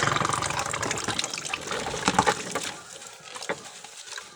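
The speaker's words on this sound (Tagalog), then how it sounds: "Basta may tubig lang dito sa planggana, oh. Diretso na tanggal yan mga kanin." Rice-crusted dishes being washed by hand in a basin of water, with steady sloshing and splashing that swells into a few louder gushes midway, then settles into softer dribbles and clinks near the end.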